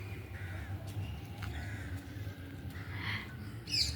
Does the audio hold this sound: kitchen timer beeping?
no